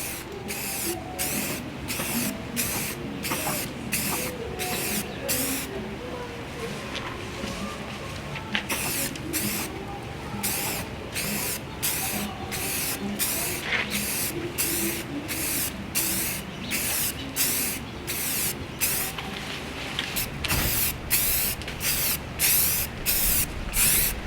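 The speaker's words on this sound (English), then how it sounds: "One of the problems you have out of a shaker can is it has a very narrow fan pattern" Shaker can of enamel spray paint hissing onto a van in repeated short bursts, steady airy spray with brief gaps between passes, close and fairly loud with no talking.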